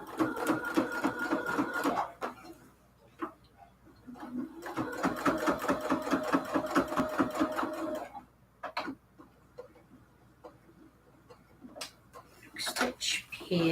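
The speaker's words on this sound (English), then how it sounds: "A lot of slow sewing at this point right now." Sewing machine slowly stitching a cathedral window quilt pillow case, with bursts of rapid mechanical clatter separated by pauses, near and moderately loud, stopping and starting several times.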